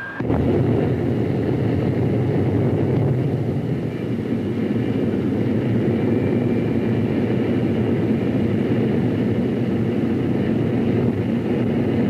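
McDonnell F2H Banshee jet-powered US Navy fighter from 1948 taxiing: a loud, continuous roaring rumble of the jet engine, steady throughout with a broad noisy wash and no voices.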